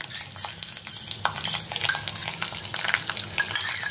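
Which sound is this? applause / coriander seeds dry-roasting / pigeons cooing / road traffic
coriander seeds dry-roasting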